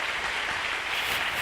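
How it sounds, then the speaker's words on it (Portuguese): Congregation at a Portuguese-language sermon applauding in a brief, dense, continuous wash of clapping at moderate level. "Palmas para vocês, muito bem."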